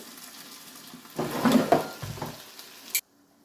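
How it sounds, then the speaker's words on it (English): Beef browning in a Dutch oven crackles and sizzles close up, with a burst of louder spitting and scraping as the meat is flipped, then an abrupt stop. "we're going to flip that meat so that we get it browned on all sides"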